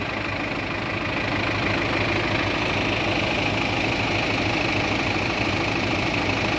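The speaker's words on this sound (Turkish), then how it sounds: "John Deere 5615 Geç tarıma ait bir traktör." A John Deere 5615 tractor engine runs steadily at idle on a farm where maize is being sprayed, with a constant rumbling drone and mechanical vibration that holds without pause throughout.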